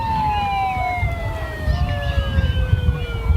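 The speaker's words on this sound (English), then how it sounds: "They got a siren too." A wailing siren is played at a 6U youth football championship game, its rising and falling tone steady over crowd noise and low rumbling, fairly loud and continuous throughout.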